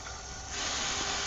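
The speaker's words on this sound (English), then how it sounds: "he's spraying right into the hole that drips through" A steady jet of water sprays into the hole of a makeshift water filter, a close, hissing rush that grows louder partway through and then holds at a constant level.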